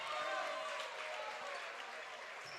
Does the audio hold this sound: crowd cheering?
yes